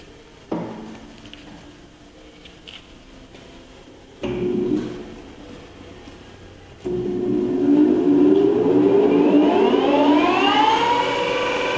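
An OSAMA 17/24 x 60 inch gap bed engine lathe is switched on in stages, each step jumping louder, then its motor winds up to high speed in a rising, siren-like whine that climbs steadily and continues on its own.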